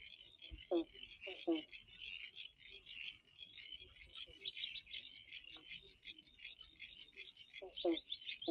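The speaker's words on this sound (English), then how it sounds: "I just found this lovely spot where there's frogs." Frogs in the wetlands beside an industrial ruin croak in short, grating bursts several times, over a dense, constant high chorus of calling frogs or insects, with faint voices in the background.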